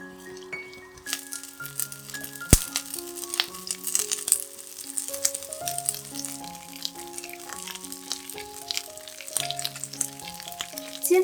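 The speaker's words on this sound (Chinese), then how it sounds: "倒入适量的油，待油热后放入素香肠和芦笋，煎一煎" Vegan sausages and asparagus frying in hot oil in a pan, a soft steady sizzle with occasional clinks, playing beneath louder melodic background music.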